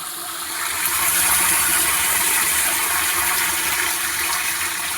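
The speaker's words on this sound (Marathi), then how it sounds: "हा निळ्या पाईपा सहाने पाणी येणार आहे" Water gushes steadily from a blue pipe into a tank holding urea and potash fertilizer, a loud continuous rushing splash that swells in the first second and then holds.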